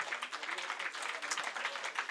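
A church congregation claps in a continuous patter of many hands, fairly distant and moderately quiet, lasting a couple of seconds.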